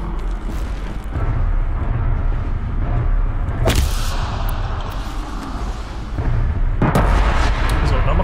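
Grenade explosions in the video game Horizon Zero Dawn give a dense, loud roar of booms and bursts, with a sharp blast near the middle and another toward the end.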